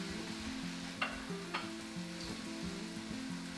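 Green beans and other food sizzle steadily in a frying pan while being stirred, with a few sharp scraping clicks of the utensil against the pan over the constant close frying hiss.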